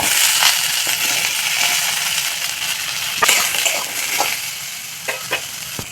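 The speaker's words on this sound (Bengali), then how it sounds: "তো বন্ধুরা আলুটা হালকা করে ভেজে নিয়েছি" Small chopped potatoes and lentil dumplings frying in a pan, a loud continuous sizzle with a few sharp stirring knocks toward the end, no speech.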